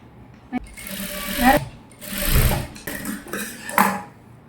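A sewing machine runs in several short bursts while stitching the sleeve of a girl's gown, its motor rattling loudly in separate runs with brief pauses between them.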